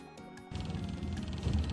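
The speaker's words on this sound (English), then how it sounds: "That's the sound of the boat motor." A boat motor runs on the Rio Negro, a low rumbling drone that kicks in after a brief quieter moment and continues steadily up close.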